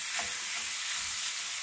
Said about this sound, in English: So you let the ground beef cook for 6 to 8 minutes until it turns brown.